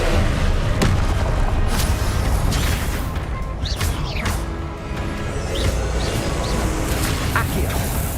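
Confringo spell blasts in the Hogwarts Legacy video game land as heavy booms over a constant roaring wash of battle noise, with whooshing streaks and crashes. A voice talks over the action.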